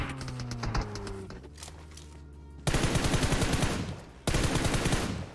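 Rapid automatic gunfire from a firefight in PUBG Mobile, loud and close, coming in two sustained bursts after an opening stretch of quieter game sounds.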